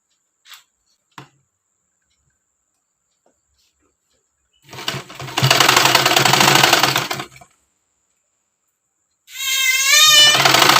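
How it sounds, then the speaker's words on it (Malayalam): Sewing machine stitching folded cloth along an armhole edge, two loud sustained bursts of running stitches separated by a pause, with a couple of faint clicks before. "ഇത് നമ്മൾ ഇവിടെ നിന്ന് ഇങ്ങോട്ടൊന്ന് മടക്കി ഇതിങ്ങനെ ഒന്ന് അടിച്ച് കൊടുക്കാം കേട്ടോ."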